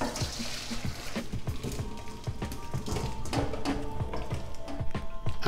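Cooked, fork-tender potatoes are drained of their water, a steady close splashing and trickling pour into a sink, with faint clattering throughout.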